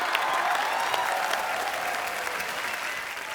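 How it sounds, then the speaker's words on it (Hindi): Studio audience applause on The Kapil Sharma Show greeting the Meet Bros, a dense, steady wash of clapping that holds loud for the whole stretch, with no talk over it. "तो जोरदार तालियों से स्वागत कीजिए मीत ब्रदर्स का।"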